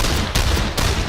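Gunfire from the tactical video game Lamplighter's League: loud sustained bursts of shots in roughly three surges, dense and continuous with no pauses.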